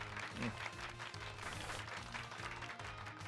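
Steady applause from a crowd in the video game Pokémon Violet, recorded quietly with some low tones running underneath.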